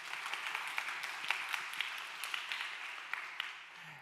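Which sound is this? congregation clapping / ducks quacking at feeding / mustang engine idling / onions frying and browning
congregation clapping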